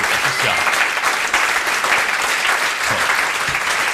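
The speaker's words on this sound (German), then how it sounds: "Mensch, ein Applaus." A live comedy audience claps in a dense, sustained round of applause that stays even in loudness throughout, heard alone without any talk.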